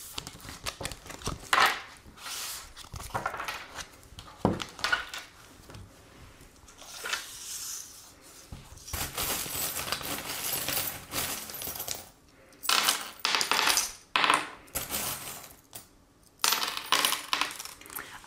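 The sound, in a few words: divination charms being cast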